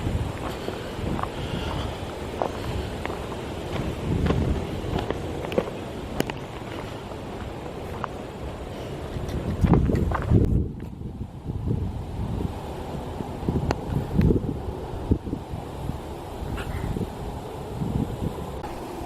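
Steady wind gusts through a pine forest trail at Edgewood during a drought, a broad rushing noise that swells and buffets the microphone, strongest around the middle, with no voices.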